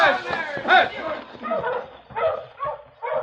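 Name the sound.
sled huskies barking in a radio drama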